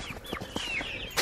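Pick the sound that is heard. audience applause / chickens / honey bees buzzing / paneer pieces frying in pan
chickens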